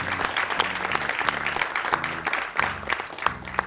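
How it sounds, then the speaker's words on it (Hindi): Audience applause after the stage play Kabira, a crowd clapping in a moderately loud, fluctuating wash while tonal music or hum runs underneath in short bursts. "उनके लिए भी जोरदार तालियां।"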